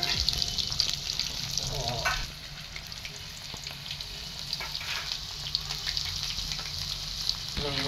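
Masala-stuffed potatoes fry in a pan and are turned now and then, producing a continuous close sizzle with soft stirring and scraping, louder at first and then settling into a steadier hiss.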